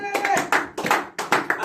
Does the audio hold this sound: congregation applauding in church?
yes